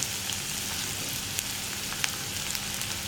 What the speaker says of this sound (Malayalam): ചൂടായി തുടങ്ങുമ്പോൾ തന്നെ നമുക്ക് ഒരു പീസ് ഇഞ്ചി ചെറുതായിട്ട് മുറിച്ചത് ചേർക്കാം.